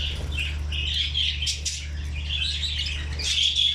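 A group of pet rainbow birds kept together calls with bright chirps and tweets over a constant low hum, the calls overlapping and close throughout.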